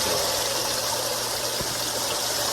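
Water gushes steadily in a koi fry tank's degassing chamber fitted with a one-tier shower and plants, a loud, continuous, close rushing with no breaks.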